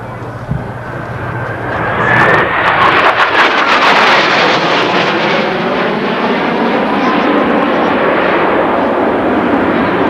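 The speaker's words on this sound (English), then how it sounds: "will now decelerate his aircraft and we'll start selecting the nozzles in the full down position" Jet aircraft at an air show decelerating with its nozzles selected to the full down position, a loud sustained engine roar with wind buffeting, rising then holding steady as it passes fairly close.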